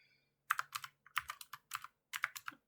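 Computer keyboard keys typed in short clustered bursts to enter a date into a LibreOffice Calc spreadsheet, close and quiet with brief pauses between groups of clicks.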